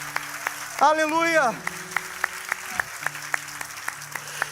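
A church congregation claps in a steady unison beat over background music, after a voice shouts out near the start.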